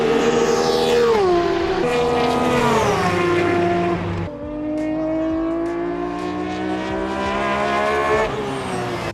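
BMW E46 M3 GT2 race cars with P54 racing engines, wide-body, side exhausts, on a racetrack: a loud, close, high-revving engine screams through upshifts and downshifts, pitch climbing and dropping repeatedly with a brief lift near the middle.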